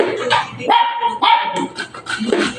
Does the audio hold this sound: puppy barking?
yes